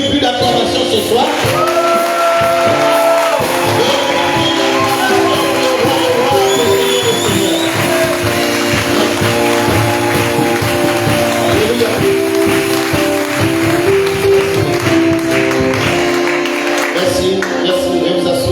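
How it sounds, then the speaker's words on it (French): Church congregation at an evangelical family service cheering and applauding together, a dense, loud, continuous crowd roar with shouts and voices mixed in throughout. "donne-moi une bulle d'acclamation ce soir."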